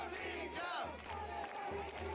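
Protesting students outside a public service commission office chant slogans in rhythmic bursts from a distant crowd, a steady repeated pulse with a drum-like beat beneath.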